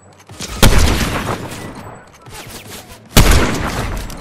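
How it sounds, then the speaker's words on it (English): Gunfire in Fortnite bursts out twice, sharp and loud, with a spray of shots at the start and another volley near the end, each trailing into reverberant noise. "Someone is shooting me."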